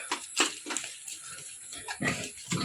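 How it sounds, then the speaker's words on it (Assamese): Short, snuffling grunts from a local-breed sow with piglets come in quick bursts, close and fairly quiet, with brief pauses between them. "এইজনী আমাৰ লোকেল গাহৰি আৰু এই পোৱালি 3টা"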